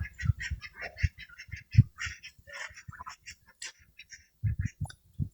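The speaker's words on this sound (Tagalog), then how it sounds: "Yan, yan yung malalaking itik natin" Large adult ducks quack close by in a flock of about fourteen females and two males, giving a busy, irregular run of nasal calls and brief pauses.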